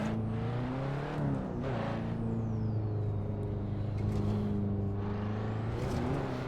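The engine of a KTM X-Bow race car in a racing video game at Silverstone, droning steadily with rising and falling revs through gear changes, loud and continuous with no pauses.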